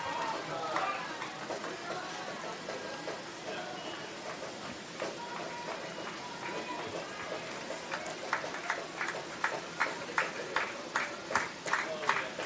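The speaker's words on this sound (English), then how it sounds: "Fans standing, clapping." Baseball fans standing and clapping in the stands at a college NCAA Tournament game, Tampa versus Nova Southeastern, a steady crowd din building into sharper rhythmic claps near the end, with an announcer talking over it.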